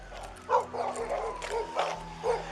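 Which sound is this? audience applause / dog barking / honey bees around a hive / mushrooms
dog barking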